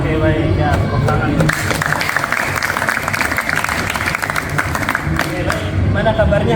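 Loud, dense applause from an audience at a morning school coaching session fills the whole stretch without letup, with voices mixed into the clapping.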